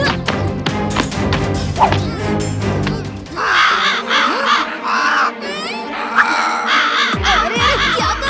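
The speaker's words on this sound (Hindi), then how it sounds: "ये कौवा तो जाना पहचाना लगता है" Repeated harsh caws of a crow in an animated children's adventure scene, loud and close, coming in rhythmic bursts over a busy cartoon soundtrack with music.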